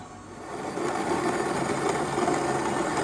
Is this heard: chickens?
no